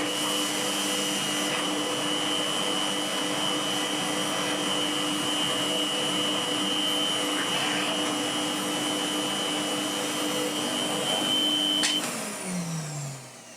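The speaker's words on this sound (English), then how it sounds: "for the month of September I'm going to be using this vacuum cleaner." A corded bagged vacuum cleaner with a HEPA filter drones loudly and steadily with a high whine, then winds down near the end.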